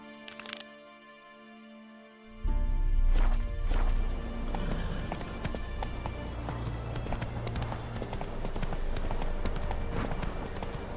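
In The Witcher 3, a horse gallops with rapid, rhythmic clip-clop hoofbeats that start abruptly and keep going under game music and ambience, with a brief whinny-like accent near the start.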